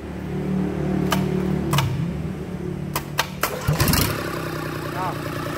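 A Kubota 662 diesel engine at a farm machinery shop is started: a few sharp clicks and knocks over a low hum, then the engine cranks and catches with a burst of clatter before settling.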